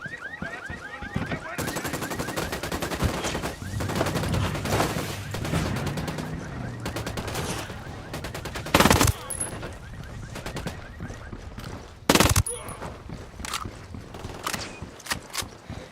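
Bursts of automatic rifle fire and sharp single shots from a tactical shooter game, Tom Clancy's Ghost Recon Wildlands, crackling loudly over several seconds, with two especially heavy blasts later and background game sounds between volleys.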